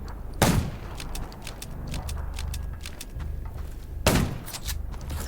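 Two sharp, loud gunshots ring out in the zombie-survival video game Undawn, separated by several seconds, with mechanical clicking and rattling in between.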